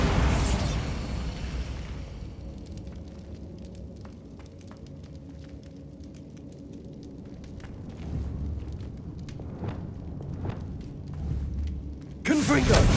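Bombarda blasting spell in the Hogwarts Legacy video game: a loud burst at the start and another sharp blast at the end, with rumbling low debris and scattered crackles between, mixed with game speech.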